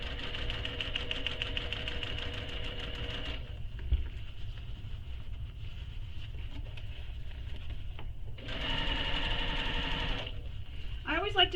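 A sewing machine top stitching through faux leather on a mini messenger bag runs in steady rapid bursts, stops for a stretch, then resumes, close and under a low background hum.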